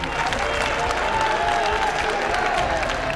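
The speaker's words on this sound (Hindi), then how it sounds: "एक बार जोरदार तालियां हो जाएं जरा दोनों ही प्रारंभिक बल्लेबाजों के लिए।" Spectators at a cricket match give the opening batsmen a steady round of applause, a thick, continuous roar of clapping and crowd noise with faint cheering, constant in loudness throughout.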